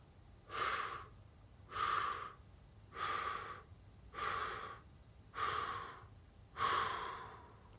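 Six slow, even breaths are drawn in and released at close range, each a soft airy rush spaced about a second apart during a guided relaxation exercise, with silence between them.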